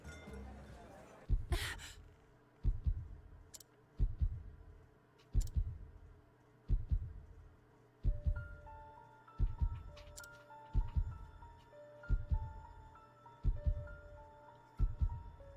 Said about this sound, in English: that's supposed to be a heartbeat